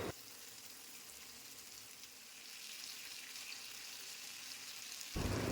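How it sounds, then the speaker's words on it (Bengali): Lote fish marinated in salt and turmeric fries with onion and garlic in oil, giving a steady, quiet sizzle and crackle that holds evenly throughout with no voices, swelling slightly louder at the very end. "সমস্ত মাছ পেঁয়াজ রসুনের সাথে খুব ভালো করে কষিয়ে নেব"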